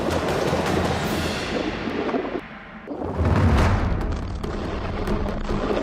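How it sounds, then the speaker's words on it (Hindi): Bombs dropped by Israeli fighter jets explode over residential areas of the Gaza Strip: a deep, rumbling boom rises out of a steady roar of dense noise, heavy and far-off, then settles back into the continuous rumble. "इजरायली लड़ाकू विमान गाजा पट्टी के रिहायशी इलाकों पर बम बरसाने लगे।"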